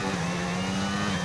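A Formula 1 racing car engine in a video game holds a steady, strained high drone with a rough pulsing edge, close and continuous, running hot.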